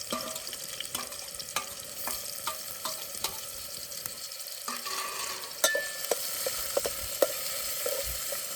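Onion and tomato fry in a pan for a crab recipe, giving a steady close sizzle with intermittent stirring clicks and scrapes throughout and no talking.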